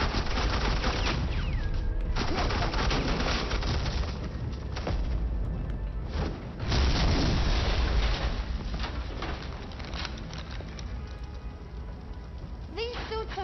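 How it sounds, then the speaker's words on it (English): Suppressing gunfire in a Batman Telltale game scene, dense bursts of automatic fire and loud rattling volleys running throughout, with a heavier blast midway and a final flurry of shots at the end. "I said suppressing fire!"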